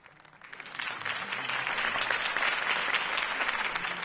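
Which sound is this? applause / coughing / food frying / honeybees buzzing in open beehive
applause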